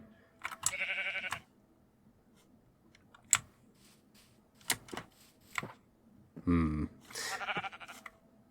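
Sheep in a Minecraft-style modded game bleat in a few short, bright bursts, separated by quiet gaps and scattered sharp clicks like keys or block placement.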